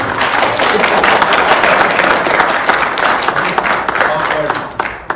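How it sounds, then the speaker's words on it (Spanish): A church congregation claps together in loud, sustained applause at a Christmas service, a dense wash of hands that keeps going for several seconds and eases slightly at the end, with voices mixed into the crowd noise. "Honramos a Dios con esos aplausos"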